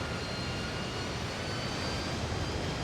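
Harrier jet engine in Microsoft Flight Simulator, throttled down for a slow approach: a dense, steady turbine roar with a faint high whine, constant and fairly loud throughout, with no voices.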